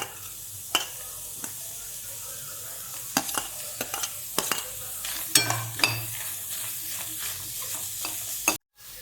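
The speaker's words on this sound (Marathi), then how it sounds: "आता मिसळपावसाठी कांदा भाजून घेते मी थोडासा लालसर होतोपर्यंत" Onions fry in a pan for misal pav, a steady close sizzle broken by repeated sharp scrapes and clinks of a utensil as they are stirred.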